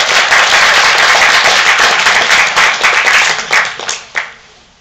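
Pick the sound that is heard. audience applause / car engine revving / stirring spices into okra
audience applause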